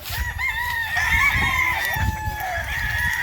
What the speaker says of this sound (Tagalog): Mga nangarol na.